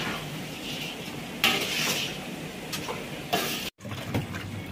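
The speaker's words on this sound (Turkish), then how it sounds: "Pilavımızı karıştırıyoruz." A utensil scrapes and clinks against a pot while rice pilaf is stirred in a large commercial kitchen preparing lunch for 200 people, giving a few soft scraping strokes over a steady kitchen hum.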